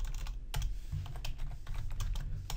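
Fast, continuous typing on a computer keyboard during a programming lecture, with crisp, irregular key clicks close to the microphone over a low steady hum.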